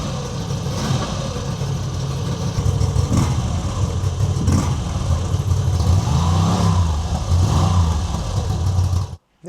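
An MV Agusta Rush motorcycle engine runs with a deep, lumpy idle and a few low blips of throttle, close and loud throughout before cutting off abruptly at the end.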